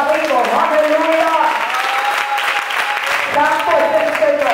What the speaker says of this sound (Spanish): Den un aplauso al Señor que está vivo